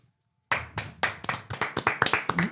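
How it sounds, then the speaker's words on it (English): A studio audience claps in a burst of separate, close hand claps starting abruptly after a moment of silence, uneven and spread out rather than a dense roar. "We've got the clapping"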